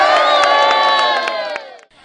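An angry crowd outside a police station roars and shouts together in a loud, sustained mass of voices. The noise stays dense for nearly two seconds, then fades and drops away near the end.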